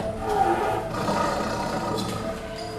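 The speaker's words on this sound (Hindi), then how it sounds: "तभी शेर के दहाड़ने की आवाज नजदीक आती सुनाई दी।" A lion roars in a cartoon horror story, a rough, rumbling roar that swells and draws nearer over a few seconds, with no talk over it.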